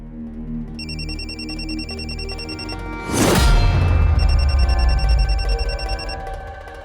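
A phone ringtone chirps in repeated electronic bursts over background music, interrupted briefly by a loud whoosh before the ringing resumes.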